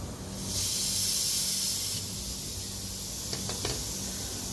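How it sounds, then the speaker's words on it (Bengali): Refrigerant gas, type 600, released from a Hisense glass-door refrigerator with a failed compressor, a steady close hiss that swells and then settles, joined near the end by a few quick light knocks. "আমি অল্প একটু গ্যাস ছাড়ছি"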